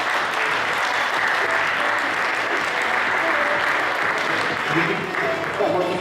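An audience at a youth volunteer forum award ceremony at Buryat State University applauding an award recipient, loud continuous clapping from a sizeable crowd with some voices underneath.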